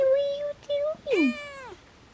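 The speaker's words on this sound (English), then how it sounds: "And Cat is meowing." A house cat meows up close, with two short level mews followed by a longer, sliding meow.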